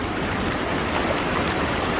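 Floodwater rushes steadily through a flooded streambed in Yenifoça after heavy rain, a dense, continuous roar of churning water, loud and close, with no voices.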